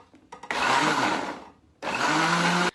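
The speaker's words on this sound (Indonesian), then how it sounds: "kita blender timun yang tadi sudah kita potong-potong" A kitchen blender whirs loudly while chopped cucumber blends with water, running in two bursts of about a second each, separated by a short pause, and preceded by a few light clicks.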